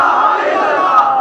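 A large crowd at a political rally roars back a slogan in unison, a loud, sustained collective shout that lasts about a second and stays steady in level, with no single voice standing out.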